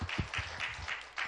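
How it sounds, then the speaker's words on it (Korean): A few bursts of clapping from a church congregation, short and fairly quiet, arriving in rough pulses. "박수 한번 주시죠"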